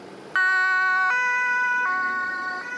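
An ambulance siren in Zeeland, Netherlands, starts abruptly and alternates between two steady tones in a slow, even hi-lo pattern, loud and fairly close, with no voices.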